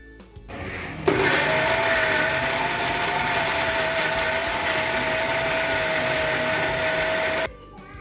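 Electric mixer grinder blending mutton sambar masala with poppy seeds, starting abruptly and whirring loudly at a steady whine for several seconds before cutting off, with no talk over it.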